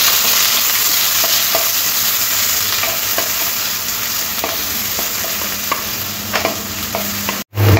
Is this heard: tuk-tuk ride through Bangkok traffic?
no